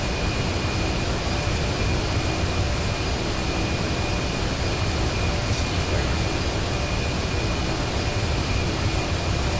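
Continuous loud roar of an airplane's engines approaching a short runway to land in Grand Theft Auto 5, steady and unbroken throughout with no pauses.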